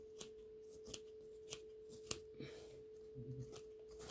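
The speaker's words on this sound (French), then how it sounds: "On prend un ciseau si on en a. Voilà. Son ciseau. Et on vient bien couper tout autour" Scissors snipping around the edge of fabric, a regular series of sharp, close clicks about every half second, quiet, with faint handling rustle at the end and no talking.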